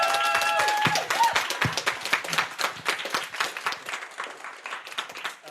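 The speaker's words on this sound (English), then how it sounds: "Can we also get a round of applause for the DRO?" Students' union crowd applauding at a winter election results event, clapping with scattered cheers at first, then thinning into distinct individual claps that taper off toward the end.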